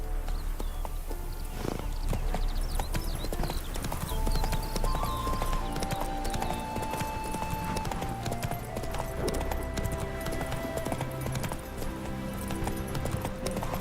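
A horse gallops in The Witcher 3: Wild Hunt, its hooves clip-clopping in a fast, continuous rhythm over game music and ambience, with a brief whinny-like sound.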